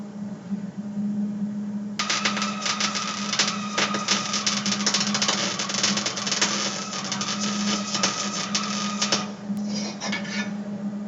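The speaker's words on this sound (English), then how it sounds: "now we'll do our lap weld" Lap weld on sheet metal, a steady crackling, sizzling arc that starts abruptly after a low hum and runs for about seven seconds before stopping.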